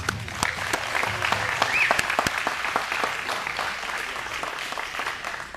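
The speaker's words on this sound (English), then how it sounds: "Let's give them a round of applause." Crowd at a live community event honoring local kids from the Montrose area breaks into a round of applause, sustained many-handed clapping with a few sharp louder claps standing out, steady and fairly close.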